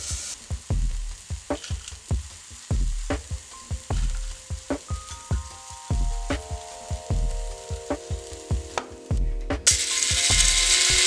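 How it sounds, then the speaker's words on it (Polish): Dried mushrooms are ground in an electric coffee grinder, with rapid rattling bursts in a stuttering rhythm and a sustained whirring grind near the end, all loud and close. "W młynku do kawy miksuję grzyby."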